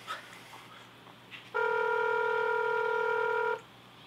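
A telephone sounds a single steady dial or ringback tone for about two seconds as a call goes out to a listener. It is clear and fairly loud over a quiet background, with no speech.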